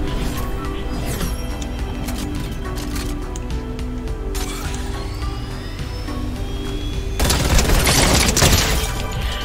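Gunfire in a Fortnite match: a dense, continuous barrage of shots and crashing impacts under game music and effects, swelling louder near the end.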